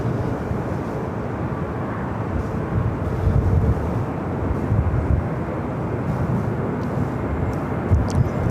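A United Airbus A321neo on arrival at LAX roars as a broad, loud rumbling engine noise, steady and sustained across the whole stretch with slight swells, no voices over it.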